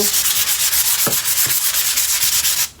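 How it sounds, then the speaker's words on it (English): A rhythmic, raspy sanding sound, close and loud, pulses steadily as an electric sander with coarse-grit paper scrubs back and forth over a surface, then stops abruptly. "take my sander and I'm going to rough it up a bit, all over it"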